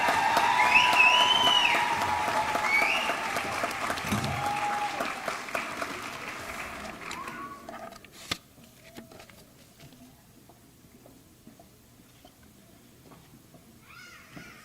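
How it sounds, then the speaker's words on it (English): A ceremony audience gives a round of applause for graduates at a college certificate ceremony, loud sustained clapping with some cheering for about seven seconds, then fading to quiet room noise. "How about a round of applause for all of our graduates?"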